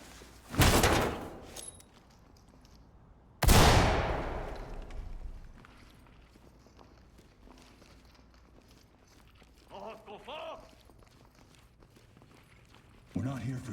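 A door is rammed in the tactical shooter Ready or Not: two loud, sharp crashing impacts a few seconds apart, followed by quieter movement, a brief voice, and another thud.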